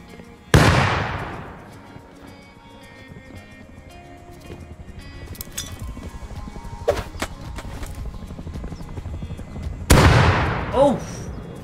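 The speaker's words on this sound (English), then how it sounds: "that nade didn't go in the right place" Grenade blasts in a video game: two sharp, loud explosions about nine seconds apart, each with a decaying rumble, with scattered clatter and game noise between them.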